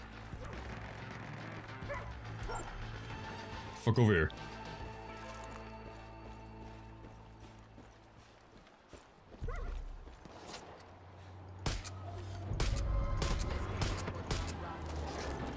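Dog barking in the video game Far Cry 5, short yips and barks scattered among game noise, gunfire-like bursts and engine hum, with someone speaking briefly over the action.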